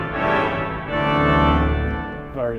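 Tuba major 8-foot and tuba octave 4-foot stops combined on a large Austin pipe organ ring out in a big church, loud sustained reed chords that swell, change harmony twice and fade at the end, with no voices.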